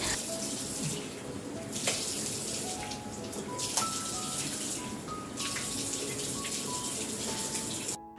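Water runs steadily from a tap during a morning bath, a continuous close splashing and gushing flow with occasional shifts as it hits a body or bucket, no talking.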